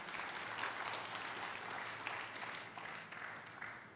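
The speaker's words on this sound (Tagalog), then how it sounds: "Ngayon ang pumalakpak mga tao rito." A church congregation at a live-streamed gospel service claps and applauds steadily, a dense and fairly faint patter of many hands.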